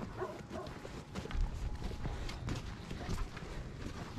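Dogs bark at a mountain sheepfold in Romania, with scattered barks and yips over steady outdoor noise, footsteps and animal shuffling, and no clear talk.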